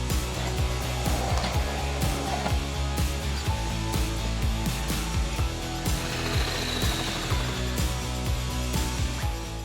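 A Bamix hand blender motor runs steadily and loudly throughout, a dense whirring drone with a rapid pulsing churn as it purees and mixes, with no voices.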